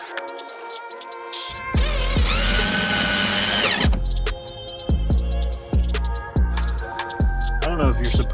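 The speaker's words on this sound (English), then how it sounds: "I don't know if you're supposed to use power tools for this" A power tool driving bolts on plastic Jeep fenders whirs in a long sustained burst, then fires in a string of short, sharp pulses, loud and close.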